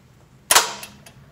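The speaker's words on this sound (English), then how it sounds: "the biggest thing with EL is it pulls in the solenoid to go in, but it does make a loud clanking noise" A solenoid latch retraction mechanism on a panic bar exit device gives one loud, sharp clank, followed by a couple of fainter mechanical clicks, heard alone at close range.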